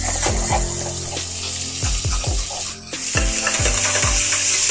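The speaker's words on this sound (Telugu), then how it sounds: "నెక్స్ట్ ఆనియన్స్ వేస్తున్నాము. ఆనియన్స్ని మంచిగా రోస్ట్ చేసుకోవాలి." Onions roasting in a hot pan for country chicken curry, a steady frying sizzle with repeated scraping stirs and knocks of a spoon against the pan, close and fairly loud, no talking.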